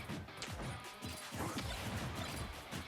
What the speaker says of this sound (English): the biggest forward smash